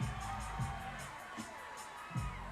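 Crowd at a minor-league baseball game cheering during a fan dance, a distant wash of voices with a few sharper whoops rising out of it.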